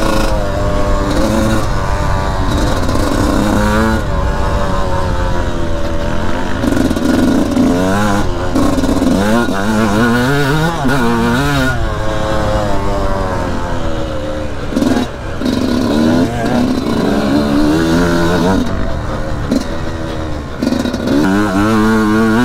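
A Yamaha YZ125 two-stroke dirt bike engine revs up and down repeatedly, loud and close, with rising and falling pitch throughout.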